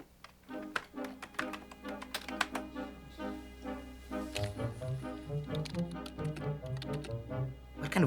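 Typing on a computer keyboard, a rapid irregular clatter of light key clicks close by, steady throughout and alone.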